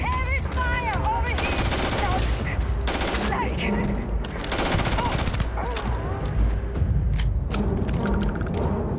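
Heavy gunfire in the video game Free Lanes, dense overlapping shots with clanking mechanical sounds, chirpy effect tones and a voice talking throughout.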